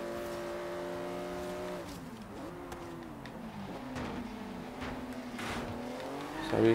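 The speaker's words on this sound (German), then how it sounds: "Der Porsche, der fährt sich schon mal geil." Porsche in the racing game Forza Horizon 3 driving, a steady engine drone that dips in pitch, then climbs again as it accelerates, with faint tire noise, moderately quiet.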